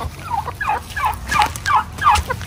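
A turkey on a small poultry farm in Glan, Sarangani Province, Philippines gobbles repeatedly in rapid, warbling bursts, close and fairly loud, with a low background hum.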